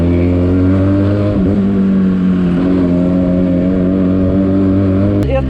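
A Benelli TNT 300i motorcycle engine runs loud and close, a steady throbbing rumble with a couple of throttle blips rising and falling in pitch, ending with a brief sharp click.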